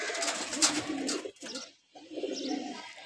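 A pigeon at a pigeon loft coos softly and repeatedly as it comes in to land, with a short quiet pause partway through.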